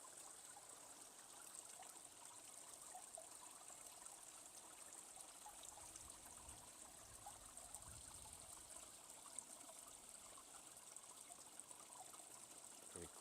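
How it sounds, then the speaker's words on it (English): A small aquarium waterfall trickles in a steady, continuous hiss of running water, close and fairly quiet, with no voices over it. "Let's get some good waterfall shots for people."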